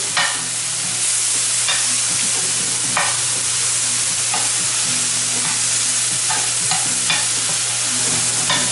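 Flank steak fries in a skillet with a steady, loud sizzle, punctuated by repeated scraping stirs of a utensil against the pan at irregular intervals.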